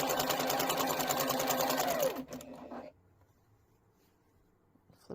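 A sewing machine chain-piecing quilt blocks runs in a steady, close whir for about two seconds, then slows and stops, leaving near silence with a small click at the end.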